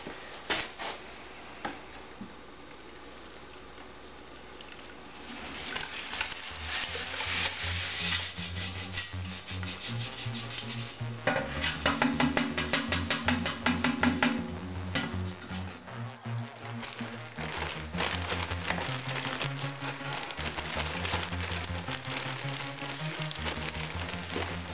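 Wet mix being worked into a big batch of boilie paste: a continuous, fairly loud churning and whirring that shifts in pitch, with scattered clatter throughout and no voices.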